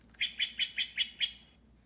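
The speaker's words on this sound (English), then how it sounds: "This blue jay here, it's called a Steller's jay" Six harsh, evenly spaced Steller's jay calls in quick succession, clear and fairly close, with quiet background.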